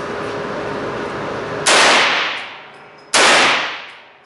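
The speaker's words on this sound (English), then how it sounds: "we're going to show you a couple of live fire demonstrations" A .450 Bushmaster rifle fitted with a Nor'easter muzzle brake fires two loud, sharp shots about a second and a half apart, each blast followed by a decaying echo.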